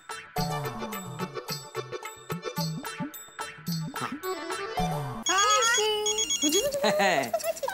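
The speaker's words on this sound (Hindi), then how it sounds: "भिड़े का फोन है, स्पीकर पर कर" A telephone rings in repeated electronic trills, mixed with music and voices, in a TV sitcom scene. Near the end, a brighter tone jingles over the sound.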